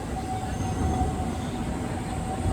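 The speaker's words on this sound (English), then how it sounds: "that's the tram of the city" A Prague city tram rolls past on its rails in a square, a steady, moderately close rumble with a faint tonal whine and no voices.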